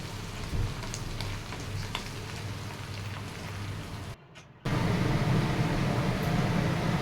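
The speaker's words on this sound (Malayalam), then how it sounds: "ഇഞ്ചിയും വെളുത്തുള്ളിയും കൂടെ ചെറുതായിട്ട് അരിഞ്ഞത് അതിനകത്തിലേക്ക് ഇട്ട് കൊടുത്ത് അതിനൊരു ബ്രൗൺ കളറാകുന്ന വരെ ഒന്ന് നമുക്കതൊന്ന് ഫ്രൈ ചെയ്തെടുക്കാം" Chopped ginger and garlic frying in oil for a homemade mango pickle, a steady broadband crackle and hiss like rain that cuts out briefly, then returns louder and denser, with no talking.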